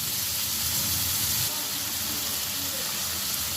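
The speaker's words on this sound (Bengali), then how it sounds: "আলুগুলো ভাজা হয়ে গেছে, এবারে আদা বাটাটা দিয়ে দিচ্ছি।" Ginger paste goes into fried potatoes in a pan with bay leaf, a broad steady sizzling hiss that eases slightly partway through, moderately loud with no voices.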